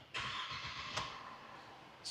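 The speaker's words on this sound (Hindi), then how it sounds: "तो चलें इसको स्टार्ट कर लेते हैं और इसका स्टार्टअप" A 2010 Mercedes E250 engine cranks and catches, settling into a steady, smooth idle with a brief bump near the middle and a faint hiss near the end, heard close with no talking.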